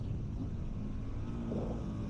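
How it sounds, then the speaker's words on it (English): A Ducati 916 motorcycle engine drones steadily at high revs on a race track, a continuous muffled rumble throughout. "Probably a bit too higher in the revs there."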